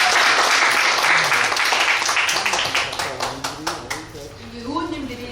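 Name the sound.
audience applause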